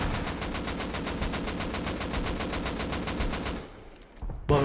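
Rapid automatic gunfire in the online survival game Rust, a long steady burst of evenly spaced shots that stops abruptly near the end, followed by a brief quieter gap and one final loud report.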